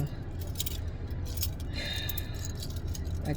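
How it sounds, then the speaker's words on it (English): A bunch of keys jangling and clinking in a car, faint and close, with scattered light metallic rattles over a steady background hum and no speech. "Y'all got a bunch of keys."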